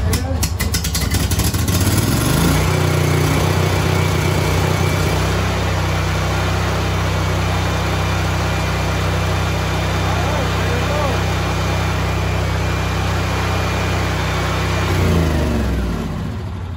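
A NorthStar 10,000-watt generator converted to propane is rope-started, catching after a couple of seconds and running loud and steady at close range before winding down near the end.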